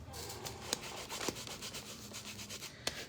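A rubber stamp is wiped clean with quick, close rubbing and scrubbing strokes, broken by a few sharp taps.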